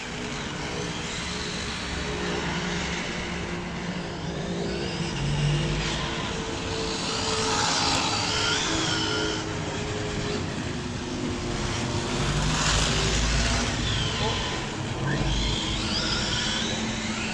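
A Sworkz S35 electric RC buggy with a 1900kv motor and 19-tooth pinion accelerates. Its motor whine and spinning tyres rise and fall in bursts through a continuous background rush, and no one talks.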